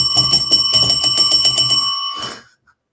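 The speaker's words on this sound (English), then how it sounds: "like a hotel bell" Rapid, repeated strikes of a hotel desk bell, bright metallic dings ringing in quick succession for about two seconds before cutting off and fading, heard close and alone without talk.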